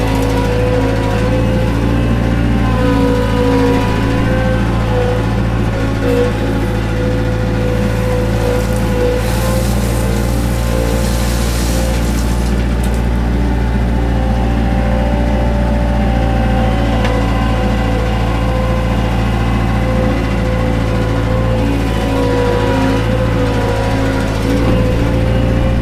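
A skid loader engine runs loud and steady throughout, a dense droning rumble with a constant tone and some rattling on top, heard from up close in the cab.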